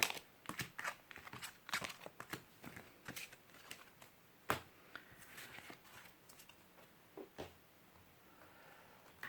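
Tarot cards and small items are gathered up and put away: quiet, scattered shuffling, tapping and crinkling handling noises in irregular bursts, close but faint, with no talking.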